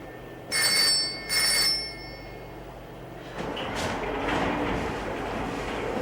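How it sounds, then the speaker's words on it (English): A telephone rings twice, bright trilling bursts close by, followed by a louder, rushing background noise. "Phone's ringing."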